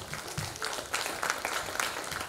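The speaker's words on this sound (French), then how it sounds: "Si vous êtes d'accord, on peut applaudir." Brief, moderately quiet burst of steady audience clapping at an agro-industry panel session, continuing evenly throughout.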